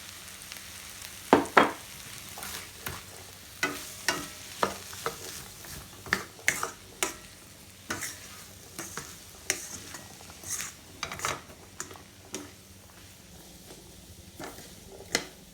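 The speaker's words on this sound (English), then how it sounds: "And give it a stir." Fried rice with green peas and spring onions is stirred in a pan, a spatula scraping and clattering in irregular strokes over a soft sizzle, the sharp scrapes standing out clearly with no talking.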